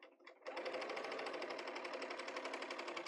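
A serger sewing machine trims and seals fabric edges with a steady, fast mechanical whir and hum. It starts up after a brief rattle and runs continuously, close and fairly quiet.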